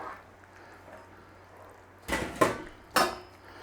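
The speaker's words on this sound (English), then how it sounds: "Nice little stir in." Macaroni is stirred into a pot of broccoli cheddar soup: after a quiet stretch, a few distinct clanks and scrapes of a utensil against the pot come close together, then stop.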